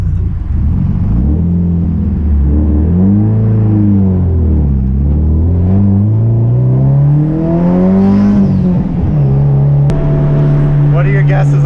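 A Subaru WRX pulls hard up a highway on-ramp, its engine droning loud from inside the cabin through rising and falling gear pulls before settling into a steady cruise hum.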